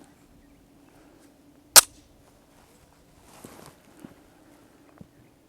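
A Canik TP9 Elite SC 9mm pistol loaded with 135-grain rounds fires one sharp, loud shot at an outdoor range, followed by faint rustling and small clicks.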